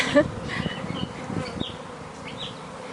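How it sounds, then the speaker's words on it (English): Lots of honeybees make afternoon orientation flights around a hive, filling the air with a dense, continuous buzz of many wings, with individual bees whizzing close past and away. "These are orientation flights. Lots and lots of bees."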